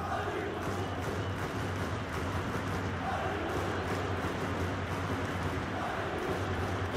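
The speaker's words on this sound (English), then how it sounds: "Crowd settling back down here in the Santiago Bernabeu Stadium." Stadium crowd murmuring at half-time in FIFA on PS4, a steady, fairly quiet wash of arena ambience at the Santiago Bernabeu that stays even throughout, with no voices standing out.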